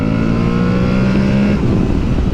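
An Aprilia Tuareg 660 motorcycle pulls hard from about 40 to 70, its engine roaring loud and close with a rising drone and a brief shift midway, no talking over it.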